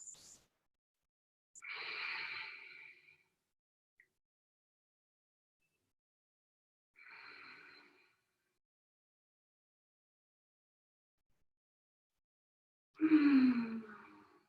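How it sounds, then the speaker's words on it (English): Deep, slow breaths taken while resting forehead-down in yoga child's pose on a mat, three separate exhales spaced several seconds apart with near silence between, the last one fuller and heavier. "Take 5 deep breaths."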